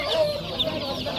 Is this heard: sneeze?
no